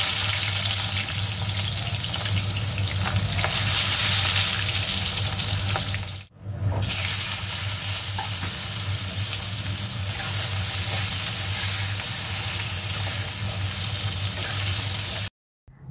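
Fried pointed gourd (potol) stirred in hot oil in a pan gives a loud, continuous sizzle close up, with a brief scrape and dip midway and an abrupt cut near the end; no one speaks.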